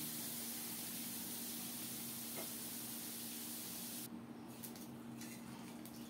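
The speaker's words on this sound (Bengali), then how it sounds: "উল্টে পাল্টে লাল লাল করে ভেজে নিয়েছি।" Tengra fish frying in mustard oil in a wok, a steady broadband sizzle and hiss that runs unbroken throughout, moderately loud and close, with no voices.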